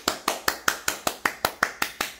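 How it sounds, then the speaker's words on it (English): Steady hand clapping, about eleven sharp, evenly spaced claps in just over two seconds, close and fairly loud with nothing else around them. "I'ma clap for you."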